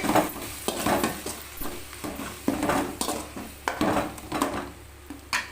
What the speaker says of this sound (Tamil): இப்போது தக்காளி எல்லாமே நல்லா வதங்கி எண்ணெய் விட்டு வந்துடுச்சு